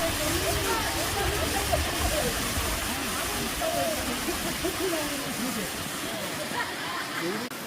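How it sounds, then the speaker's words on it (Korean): The Gusong waterfall at Cheongpyeongsa temple on Mount Obong in Chuncheon, a steady, broad roar of falling water that fills the whole clip, with faint voices and bird calls mixed into it. "폭포의 소리가 주변 환경의 변화에 따라 9가지로 들린다고 하여 구송폭포라고도 합니다"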